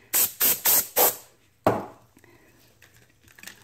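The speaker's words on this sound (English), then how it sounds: "spray my water on there" Four quick bursts of a handheld spray bottle misting water onto a paintbrush's bristles in a satin-finish painting setup, evenly spaced and close, followed by a softer rustling handling sound and quiet background.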